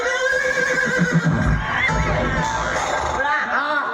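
A horse whinnies at a wedding celebration amid a noisy crowd, with shouting voices and cheering around it and the whinny rising clearly over the din.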